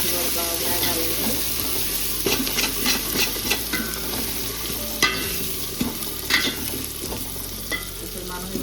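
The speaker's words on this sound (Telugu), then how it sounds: "ఇప్పుడు కొంచెం పుదీనా, కొంచెం కొత్తిమీర బాగా వేగాలండి." Mint and coriander leaves fry in a pan with a continuous crackling sizzle. Irregular scraping and stirring knocks sound close by throughout.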